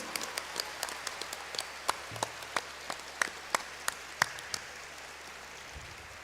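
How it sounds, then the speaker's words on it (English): Scattered hand claps from a small audience at a Loyola school show's closing, about a dozen distinct claps spread unevenly over several seconds, fairly faint against a quiet hall hum. "let's give them a round of applause in a loud note"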